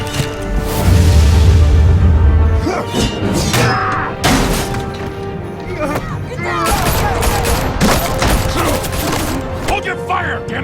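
Gunfire and crashing impacts in the video game Batman: The Telltale Series, loud bursts of shots layered with smashing and mechanical clatter and a music bed, with voices talking over the action.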